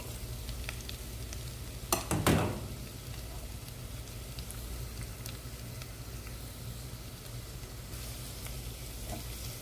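Sliced onions stirred and frying in a pan for a chickpea curry give a steady, close sizzle, with a brief clatter of a spoon against the pan near the two-second mark.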